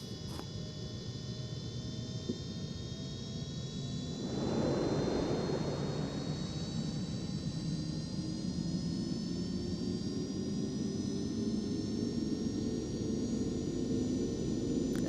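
A Cessna Citation C525 business jet takes off in a flight simulator game, its engine whine rising steadily in pitch as a rushing roar swells and holds through the takeoff roll, with no talking.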